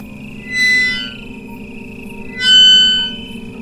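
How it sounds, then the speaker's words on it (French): A metal cemetery gate creaks open in two drawn-out, high squealing swells over a low steady hum, with no voices. "j'entendis la grille du cimetière."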